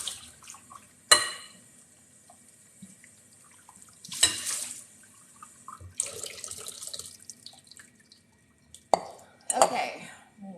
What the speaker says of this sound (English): Just rinsing off some of our root vegetables for tonight's dinner.